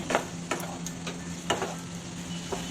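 Vegetables fry in a pan with cumin and coriander powder for a no-onion, no-garlic sabzi, giving a soft steady sizzle with a few clicks and taps of stirring, heard close and alone.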